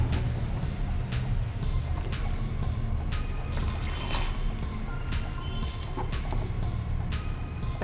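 Water is poured little by little into cauliflower batter while it is stirred, giving a steady trickling and splashing with small drips and clinks over a low kitchen background.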